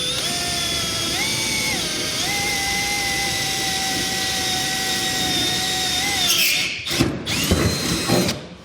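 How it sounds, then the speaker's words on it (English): A power drill whines steadily at high pitch, shifting tone slightly as it bites through a metal truck-bed cross member during a fifth-wheel hitch underbed kit installation, then stops and restarts in short bursts near the end. "I can go ahead and drill through that cross member"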